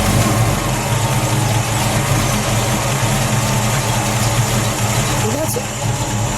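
A 1979 AMC Spirit AMX with a 360 V8 rumbles at a steady, loud idle close by, its deep low-end drone continuous throughout, with a brief rise near the end.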